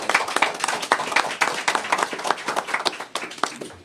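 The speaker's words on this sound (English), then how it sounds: "One more round of applause for Councilmember and Chair Caban." Loud, close audience applause at a city press conference on opioid settlement funds, dense rapid clapping from many hands sustained for about four seconds with no talk over it.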